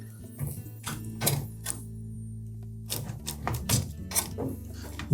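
Plastic locking tabs on Samsung dryer control board wire harnesses snap and click as the connectors are pulled apart, a scatter of sharp, close clicks and rattles over a steady low hum.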